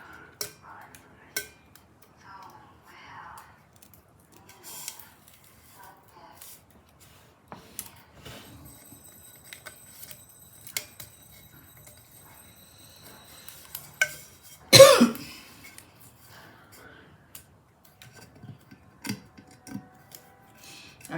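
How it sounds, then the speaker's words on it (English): Tape is peeled off a sublimation tumbler during crafting: sparse faint crinkles and small clicks, then one short, loud tearing rip partway through, followed by quiet handling sounds. "I'm just removing the tape, guys."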